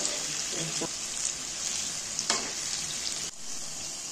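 Tal (palm fruit) fritters frying in hot oil give a steady, close sizzle and crackle throughout, with a couple of brief stirring scrapes and no talk over it.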